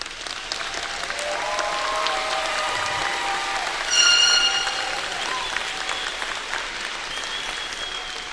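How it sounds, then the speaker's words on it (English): A commencement audience gives graduates a sustained round of applause, dense clapping from a large crowd that swells briefly in the middle and carries on evenly, with no one speaking over it. "So I think we need to give them another round of applause."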